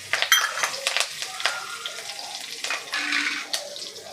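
Curry leaves dropped into hot oil already seasoned with cumin and asafoetida, crackling and spitting in a close, busy burst of sharp pops that gradually thin out.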